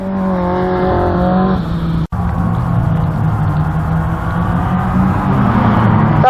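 Autograss race cars, women's class, roar into the first corner on a dirt track, a loud continuous engine drone with rising and falling revs from several cars at once, heard from the trackside with no commentary over it.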